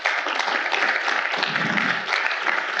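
An audience at a city's State of the City event applauds partner sponsors, a dense, even burst of many hands clapping, moderately loud and continuous, with no speech over it.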